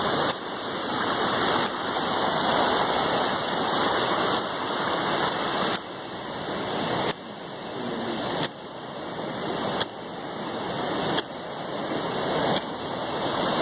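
A small river in flood near a charro arena, its swollen water rushing loud and steady with a dense, unbroken roar and no voices.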